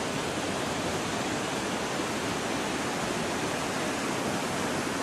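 Türisalu waterfall and its stream in Harjumaa, Estonia, roar as a steady, dense, loud rush of falling water, continuous and unbroken with no voices.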